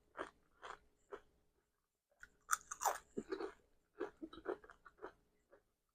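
A tortilla chip loaded with chimichurri dip is crunched and chewed up close, with loud, irregular bites and crackling chews spread across several seconds.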